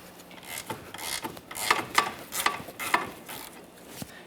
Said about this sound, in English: We'll just remove this 19 millimeter mounting bolt.